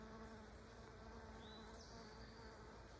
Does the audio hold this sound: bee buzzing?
yes